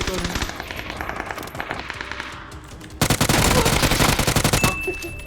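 Rapid automatic gunfire from the battle royale game PUBG, loud and dense bursts of shots running throughout, with a sharper, heavier volley in the second half.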